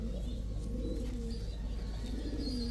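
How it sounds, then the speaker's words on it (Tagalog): An ice pigeon coos softly nearby in a loft, with a few low, mellow, rolling coos over faint background hum and no talking. "Ice pigeon."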